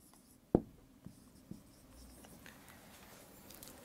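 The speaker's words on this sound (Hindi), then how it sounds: "मैं लिख के बता देता हूं आपको" Marker or chalk writing on a classroom board, with a sharp tap and a few quieter strokes and clicks, faint and close against a quiet room.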